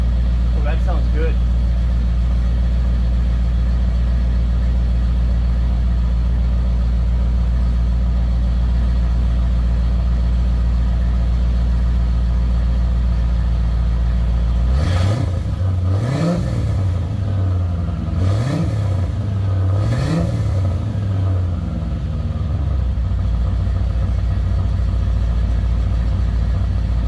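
A C4 Corvette's deep, loud Flowmaster 40 Series exhaust idles steadily nearby, then blips through four or five quick revs before dropping back to its low rumble.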